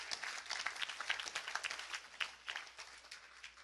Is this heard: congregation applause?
yes